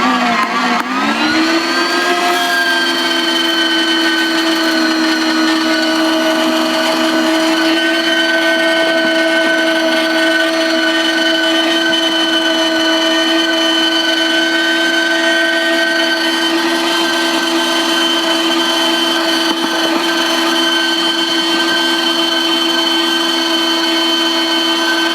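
A WonderMix kitchen machine runs at second speed with its grain flaker attachment flaking oat groats, a loud, steady motor whine with a grinding edge that starts up and holds constant throughout.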